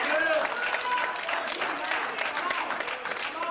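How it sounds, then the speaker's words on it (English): Church congregation clapping their hands during a sermon, a steady full wash of many hands clapping at moderate distance, with voices mixed in underneath. "Clap your hands."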